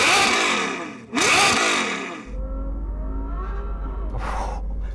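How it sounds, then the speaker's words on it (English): A high-pitched naturally aspirated Ferrari GTC4 V12 with aftermarket exhaust revs hard twice, screaming up and falling back, then settles into a droning idle with a lighter blip near the end. "Let's hear that naturally aspirated V12 from the Ferrari though."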